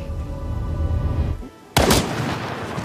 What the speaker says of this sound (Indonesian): Hinako justru menembak ke arah Utsubo